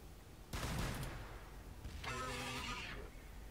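Gunfire from Warhammer 40000: Battlesector, the strategy game, comes as a dense burst of shots followed by a second longer volley of rapid firing, loud and close, with no talking over it.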